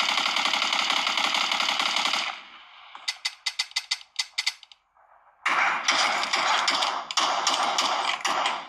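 Loud, sustained rapid video game gunfire played through an Oukitel WP30 Pro phone's stereo speakers at maximum volume fills the start and end, broken in the middle by a quieter stretch of sharp, separate metallic shots and clicks.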